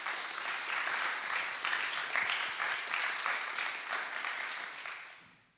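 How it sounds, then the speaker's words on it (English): An audience claps for a jury member at a science communication final, steady, fairly distant applause sustained for about five seconds before tapering off. "Please a little applause for Fanny Georgi."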